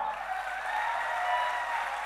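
An audience at a poetry recital in Nimbahera claps steadily, a dense, even wash of applause from many hands at moderate volume throughout.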